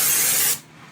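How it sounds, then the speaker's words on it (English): Crisco cooking spray hisses in one steady, close burst while oiling a baking pan, then cuts off abruptly about halfway through, leaving quiet room tone. "I like to use my Crisco spray."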